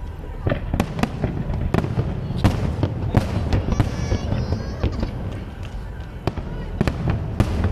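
Fireworks and firecrackers explode in the Netherlands, a dense, loud run of sharp cracks and bangs at an irregular rhythm, with people talking underneath.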